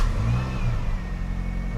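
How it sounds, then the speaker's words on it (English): A Mini R50 engine runs after an ignition switch replacement, revving steadily and loudly up close for the whole short stretch with no voices. "the car now starts."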